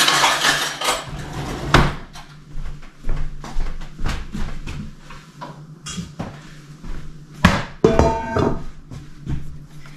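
Scraping and clinking of a metal jar lid scooping soft baked pumpkin flesh out of its shell, a run of close, sharp scrapes and knocks against the skin in a kitchen.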